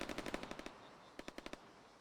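Machine gun fire in the video game ArmA 3, two sharp bursts of rapid rounds, about eight shots then a short gap and five more, loud and close with no voices.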